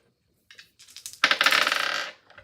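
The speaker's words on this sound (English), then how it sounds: "let's roll the dice." Dice rattle and clatter across a surface after a few light preliminary clicks, a dense burst of hard tumbling impacts that fades out over about a second, close and fairly loud with no talk.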